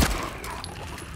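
A single loud, close gunshot fires in Silent Hill 2, with a sharp crack at the onset trailing into a reverberant, noisy tail.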